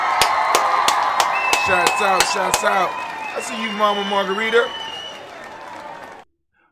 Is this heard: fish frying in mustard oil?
no